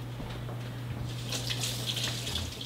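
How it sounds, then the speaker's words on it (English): Tap water runs steadily as hands are rinsed underneath it, splashing grows louder in the second half, with a low electrical hum in the background. "Give my hands a quick washing."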